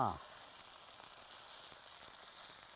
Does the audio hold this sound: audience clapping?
no